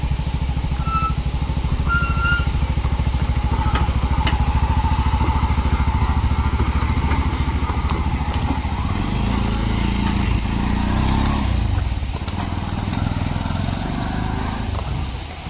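A motorcycle engine runs close by in a village beside a river, a steady low putter that continues throughout and softens slightly toward the end.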